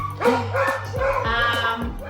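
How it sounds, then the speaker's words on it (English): Dogs bark repeatedly, close by, in a quick run of high yips and barks. "You hear my dogs barking?"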